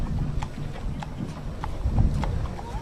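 Horses walk in the Tucson Rodeo Parade, their hooves clip-clopping on pavement in a steady, moderately distant rhythm over the low murmur of an outdoor crowd.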